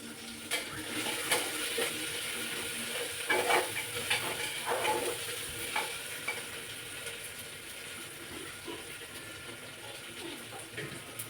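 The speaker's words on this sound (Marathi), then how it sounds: "चांगला आपण परतून घेऊया" Onion and spices sautéing in a pan for masala rice, a continuous sizzling hiss with irregular spatula scrapes and stirring clinks, close and steady, no speech.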